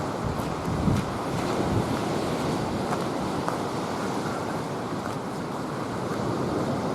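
Waves and wind at Miners Beach, Pictured Rocks, in October: a continuous broad roar of surf mixed with gusting wind buffeting the microphone, steady and fairly loud, with no voices.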